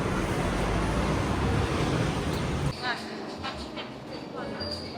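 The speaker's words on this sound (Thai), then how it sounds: "ตอนนี้พวกเรามาถ่ายรถไฟทุกคน" Passenger train in Switzerland running past, a loud rushing rumble of rail noise that cuts off abruptly partway through and leaves quieter ambient sound behind; a voice talks over it.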